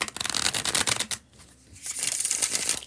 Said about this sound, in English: That was the bridge shuffle.